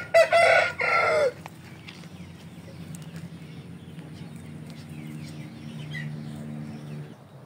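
A Shamo rooster crows loudly and close at the start in two strong bursts, then softer clucking from Shamo hens and a rooster fills the rest under low background hum.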